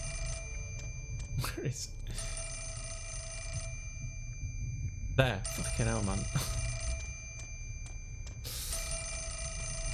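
A telephone rings in the horror video game Fatal Frame, a steady electronic ring repeating in long bursts across the clip, with a man muttering over it now and then.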